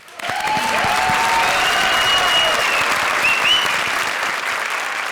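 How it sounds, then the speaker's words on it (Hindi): A studio audience at a comedy show claps to welcome the judges, a dense, steady burst of applause that starts abruptly and holds loud throughout, with faint whistles and cheers mixed in. "लेकिन पहले तालियों से स्वागत करिए हमारे जजेस का"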